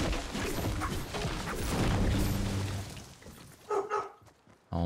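A dog gives a few sharp barks near the end, after a stretch of loud, dense, crashing noise.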